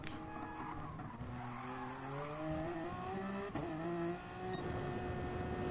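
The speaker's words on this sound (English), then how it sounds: "Here comes Top Racer flying past his teammates in the GTE." A GTE race car in a 24 Hours of Le Mans racing video game speeds past, its engine note climbing through rising gear-change whines with a brief tire squeal, continuous and fairly close.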